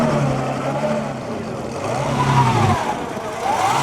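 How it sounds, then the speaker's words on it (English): A vintage Alfa Romeo engine at the Mille Miglia road race idles steadily with a low, continuous rumble. Faint revving swells rise near the middle and end, and the sound stays moderately loud throughout. "Incredible engine."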